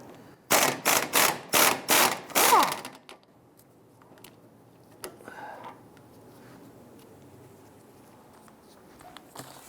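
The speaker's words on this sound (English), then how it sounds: "Let's go ahead and remove the lower bolt for our strut here." On a 2005-2010 Chrysler 300, a tool rattles in a series of about six quick loud bursts on an 18mm strut lower bolt held with a 21mm deep socket, followed by faint clinks and shop quiet.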